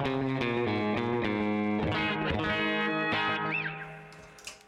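A clean electric guitar plays a short run of plucked notes, each followed by a quick slapback echo, ending in a gentle bend.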